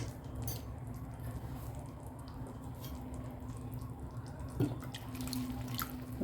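Gram flour batter poured into a pot of sambar, a soft steady trickle and drip of thick liquid running for several seconds with faint kitchen background, no talking.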